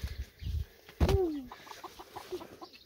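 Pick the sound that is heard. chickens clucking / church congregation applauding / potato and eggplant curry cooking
chickens clucking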